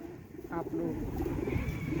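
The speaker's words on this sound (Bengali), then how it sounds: "এটা কি পায়রা শাহিন?" Pigeons being put back into their loft coo softly in low, rolling calls, close by, under people talking.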